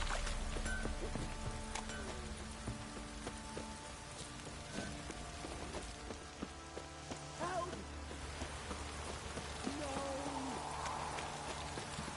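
Rain from a downpour in The Witcher 3: Wild Hunt patters softly and steadily beneath game ambience, with faint tonal hums and occasional clatters, no voices.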